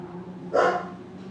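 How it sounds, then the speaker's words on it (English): A single short, loud bark from a puppy named Denali, close by, standing out over a low steady hum. "Oh, you're a loudmouth puppy."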